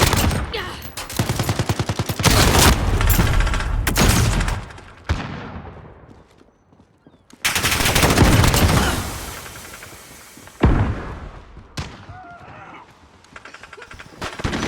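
M4A1 rifle fire in Call of Duty: Modern Warfare comes as loud, rapid bursts of gunshots separated by short pauses, with shots echoing and trailing off between volleys.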